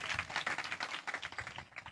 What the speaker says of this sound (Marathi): त्यांच्यासाठी जोरात टाळी वाजवा